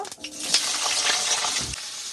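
Washed pumpkin pieces, cut into squares, hit hot oil for a potato-pumpkin curry and sizzle loudly up close, with a stirring scrape partway through.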